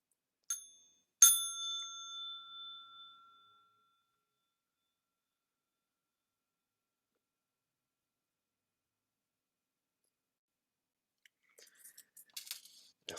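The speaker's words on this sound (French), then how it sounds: "Je vais inviter la cloche pour signifier qu'il nous reste environ 10 minutes avant la fin de cet échange." Meditation bell at a mindfulness gathering sounds twice close together, two clear, bright strikes ringing out and fading over a few seconds, followed by long silence and faint rustling.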